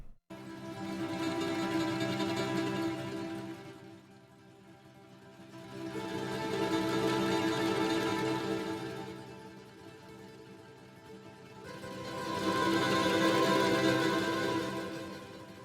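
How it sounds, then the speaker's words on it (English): Swelling Spitfire Audio choir blooms rise and fade in three waves, with fast guitar tremolo patches shimmering underneath as a rapid flourish; instrumental only, with no voices talking. "I paired those blooms with these fast tremolos from the guitar patches"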